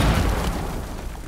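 Breaching charge detonating in Rainbow Six Siege, a loud, dense, rumbling blast filling the moment and slowly thinning out.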